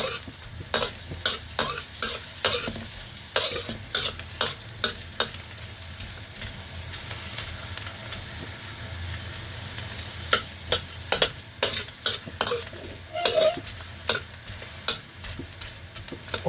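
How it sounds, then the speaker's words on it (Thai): Vegetables with ginger and garlic are stir-fried in a pan, making a continuous sizzle broken by sharp, repeated scraping clicks of a utensil against the pan, close and fairly loud. "ผัดให้ หอมเลย นะคะ"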